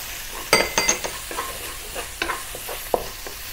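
Onions and chopped garlic sauté in oil in a wok or skillet, a soft continuous sizzle broken by several clattering stirs and scrapes of a utensil, loudest near the start. Close and quiet, no voices.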